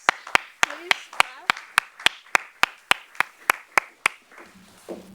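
An audience at a closing keynote for an arts conference claps in a steady, evenly spaced rhythm of sharp hand claps that fade out after about four seconds, followed by faint voices.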